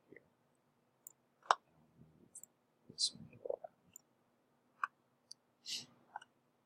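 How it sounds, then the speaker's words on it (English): Calculator keys click in sparse, quiet taps at irregular intervals, with soft rustling and handling noise between presses in a quiet room. "if you click on the Stat button on your calculator"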